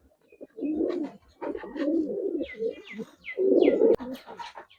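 Giribaz pigeons coo nearby in repeated low, throaty phrases, with a few higher chirps between them and no voices.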